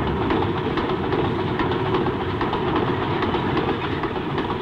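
Train rolling along rails, a steady dense rumble with faint rhythmic clickety-clack, continuous and fairly close throughout.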